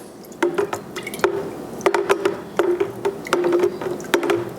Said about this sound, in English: I'll stir it right now just to get the yeasties all mixed in